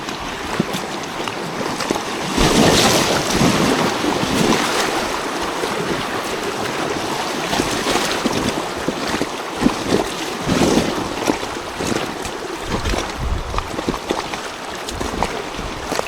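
A kayak running small rapids on the Takhini River in the Yukon, with steady rushing water and wind buffeting the microphone throughout, occasional splashes rising above the continuous roar.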